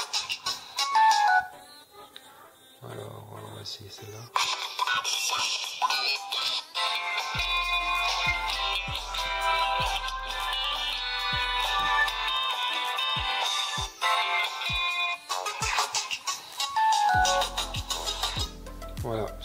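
A ringtone melody plays from the speaker of a Ulefone Power 2 smartphone during a sound-settings check, a bright repeating tune with short low thumps, mixed with someone talking over it.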